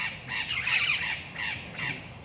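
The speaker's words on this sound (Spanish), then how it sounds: "Aquí no, aquí hay pajaritos, mire." Birds call outdoors in a rural Mexican setting, giving a few loud, harsh squawking caws in bursts, close by with no talking.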